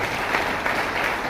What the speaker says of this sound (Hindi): एक बार ताली बनता है कि नहीं बनता है?